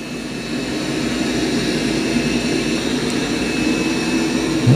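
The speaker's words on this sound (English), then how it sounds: "Well, it's doing a pretty good job vacuuming too." A robot vacuum cleaner runs indoors while steering around an obstacle, giving a steady, loud whirring motor drone with a constant high whine that holds level and unbroken throughout, with no voices.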